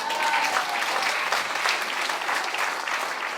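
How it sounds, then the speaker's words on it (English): Dense audience applause at a meeting with a senator and council members, steady and close throughout, with no speech over it. "Let's give James a round of applause"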